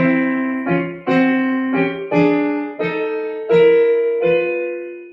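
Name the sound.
tenor and alto harmony parts played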